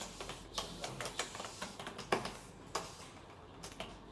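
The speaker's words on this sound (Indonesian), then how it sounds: "kalau lagi mengetik" Someone types on a computer keyboard: rapid, irregular clicks and clacks of keys at close range, fairly quiet, with no talking.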